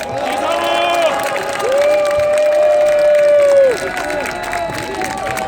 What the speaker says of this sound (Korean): 다시 한번 우리 지상욱 후보 뜨거운 박수로 성원해 주십시오